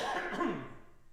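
A single throaty cough close to the microphone during a Tuesday night jazz set at a church, fading quickly into quiet room tone.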